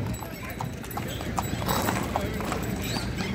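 Horse hooves clip-clop at a busy horse fair, the Muktsar Mela in Punjab, with a brief whinny amid steady crowd chatter and background noise throughout.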